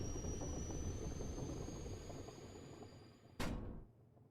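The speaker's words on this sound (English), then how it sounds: "Nice! The engine works" An engine runs in the Machinika Museum video game, a steady low droning hum with a thin high whine, then a sudden loud burst near the end before the sound cuts off to near silence.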